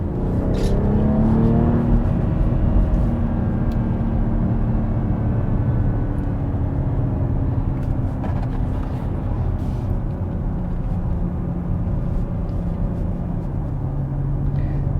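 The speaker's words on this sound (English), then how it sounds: "that's very urgent when you put your foot on the loud pedal" A 2021 BMW X3 M40i engine pulls hard at full throttle, a loud, steady drone with rising harmonics that climbs and holds for the whole stretch without any talk.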